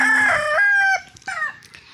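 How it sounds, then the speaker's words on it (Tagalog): A rooster crows loud and close at chicken feeding time, one drawn-out call that breaks off, followed by a shorter trailing crow and faint clucking. "magpapakain na tayo ng mga manok"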